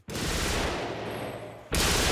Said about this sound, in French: Je ne connais pas de son aussi terrible que celui de la MG42.